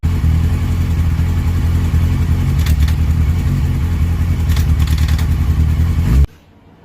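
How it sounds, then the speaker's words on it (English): A Clubman 600 race motorcycle engine runs steadily at a loud, rough idle to warm the oil, a close, continuous throbbing drone lasting about six seconds before it cuts off abruptly. "This is what the bike currently sounds like."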